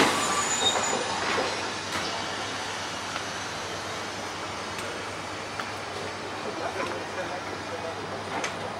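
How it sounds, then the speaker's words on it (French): A train on the Chemin de Fer vendéen entering the station: faint rolling rumble with occasional soft squeals and clicks of wheels, steady and somewhat distant throughout. "le train rentre en gare"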